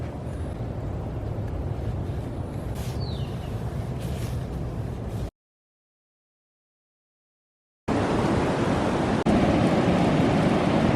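Wind and surf at a blown-out, windy beach with rain approaching make a loud, steady roar of rushing air and waves. The roar cuts out briefly and then returns.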